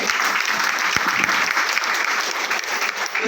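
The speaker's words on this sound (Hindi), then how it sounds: "एक बार जोरदार तालियां होनी चाहिए" Loud, dense audience applause at a business plan presentation, steady throughout with no break.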